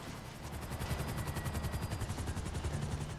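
Sustained rapid gunfire from a police chase shootout in GTA V, a dense rattling burst of shots running continuously with a low pulsing rumble beneath and no talking.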